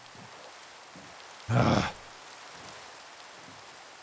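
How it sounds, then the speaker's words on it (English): Continuous soft hiss of rain falling in a video game, steady and even throughout, broken by one brief louder burst of noise midway. "Oh, more rain? You're kidding me."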